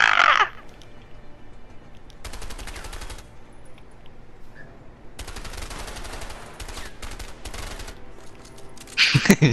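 Bursts of rapid automatic gunfire in the video game A Way Out, two sustained volleys lasting a couple of seconds each, with sharper louder shots at the very start and end, fairly close and dominant.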